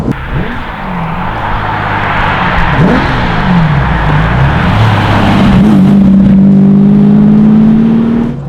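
A 400bhp restomodded 1960s Jaguar E-type XKE accelerates hard from inside the cabin, its engine note rising and climbing steadily in pitch, loud and close, with no talking.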